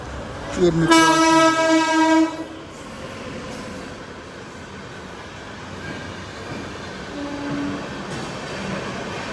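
A Lalaguda shed locomotive on an express train sounds a loud, sustained horn blast, then a steady rolling rumble follows, with a brief, fainter horn near the end.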